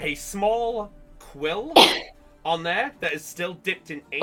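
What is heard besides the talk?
sneeze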